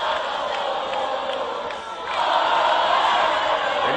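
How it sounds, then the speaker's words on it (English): A packed high school football stadium crowd at a varsity game roars steadily from a distance, the cheering swelling louder near the end. "Nice crowd on hand."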